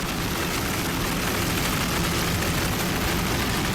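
Helicopter flying over an offshore powerboat race on the Gulf at Sarasota, a steady broadband roar of rotor and engine noise mixed with distant boat engines, loud and continuous with no talk.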